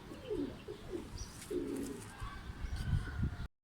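Soft pigeon coos repeat several times, close by, with quiet background rustling and a few faint chirps.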